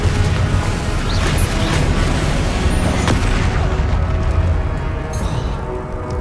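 Confringo spell explosions from Hogwarts Legacy combat, a dense, continuous barrage of booming crashes and impacts, loud and close, with no clear gaps between blasts.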